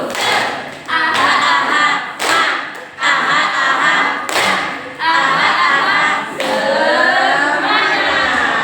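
A group does a 'tepuk semangat' rhythmic clapping chant at a physical education teachers' workshop in West Kalimantan. Loud, close claps land in sharp bursts about every second or two, with voices chanting along between them.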